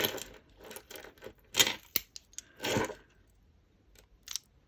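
Clip-on plastic bead jewellery handled by hand, giving a few light clicks and rattling clatters of beads knocking together in short bursts, close and fairly quiet.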